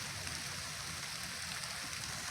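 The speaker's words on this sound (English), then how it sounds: "The rains are coming in, and the thunder and the lightning is like wow." Steady rain pours down in a dense, even hiss, fairly faint and unbroken throughout.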